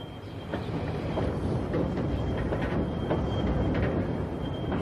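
A train rumbles steadily and fairly close for several seconds, a continuous broad roar with faint rhythmic clatter and no talk over it.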